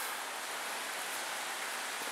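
Light morning rain falling steadily in Des Moines in December, a soft, even hiss of drops with no breaks, fairly quiet and continuous throughout.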